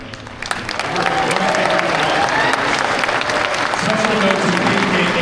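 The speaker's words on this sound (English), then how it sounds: "A big round of applause for the public relations, public media." Convention crowd at the Anthrocon closing ceremony applauding, a sustained wash of clapping that swells after the first half-second and stays full, with scattered cheers and murmuring voices beneath it.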